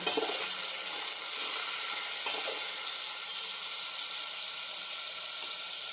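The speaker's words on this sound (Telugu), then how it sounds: "ఇప్పుడు టమాటోస్ కొత్తిమీర చిల్లీ వేసుకుందాం ఇలా వేసుకొని అన్నీ ఒకసారి కలబెట్టుకోవాలి" Tomatoes, coriander and chili sizzle steadily in a hot oiled pan with fried onions for egg biryani, a continuous hiss with a couple of faint stirring scrapes, no talking.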